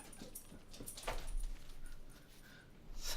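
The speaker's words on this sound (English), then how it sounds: "my dog is playing with a ping pong ball. It's bouncing around the room" Indoors, a dog plays with a ping pong ball: faint light ticks and skittering bounces are heard along with soft whimpers, quiet and a little distant.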